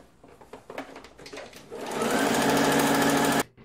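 A sewing machine stitches a gathering line on fabric, starting with a few hesitant stitches before settling into a loud, steady whirring run that stops abruptly.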